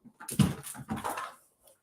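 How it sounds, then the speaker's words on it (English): A dog whimpers and makes short whiny yips close by while playing with a ball, a brief burst of excited sound with no talking. "I have a crazy dog who's behind me playing with the ball."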